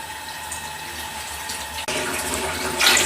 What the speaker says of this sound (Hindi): 10 प्याले पानी के हमने शामिल कर दिए।